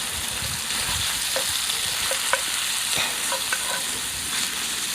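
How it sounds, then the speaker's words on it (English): Bacon and onions sizzling and being stirred on a cowboy grill outdoors, a continuous close frying crackle with occasional scraping and clinking of a utensil against the cooking surface. "it's starting to sizzle here"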